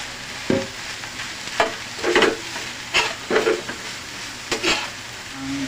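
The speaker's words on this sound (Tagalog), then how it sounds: "Lagyan na natin yung puso ng saging mga boss." Chopped banana heart stirred in a hot pan with shrimp paste, giving a steady sizzle broken by several loud scraping stirs at irregular intervals.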